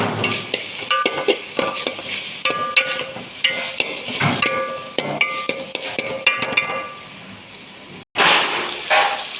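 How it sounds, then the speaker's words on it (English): Green paprika and onion sizzle while frying in a pan for beef pilau, with repeated brisk stirring scrapes and clinks of a utensil against the pan, close and fairly loud, with a brief cut near the end. "add mix of green paprika and onion. Stir them quickly."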